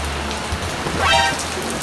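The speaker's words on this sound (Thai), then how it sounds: "ในยามดึกฝนตกด้วยนะครับ" Rain falling at night, a steady broadband patter that fills the whole short stretch at moderate level, with no voices over it.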